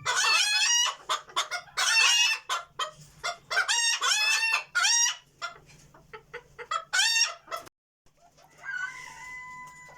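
Hens cluck and squawk loudly in repeated bursts close by in a cage with a broody hen, a rooster-like crow among them, before the calls thin out to quieter sounds.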